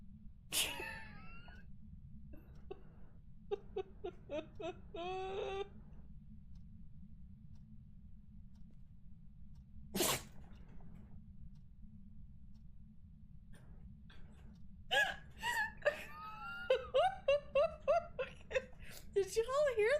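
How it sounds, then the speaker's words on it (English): A dog sneezes indoors, two short, sharp bursts spaced well apart, heard among light chirping and ticking sounds. "The dog sneezed in my face."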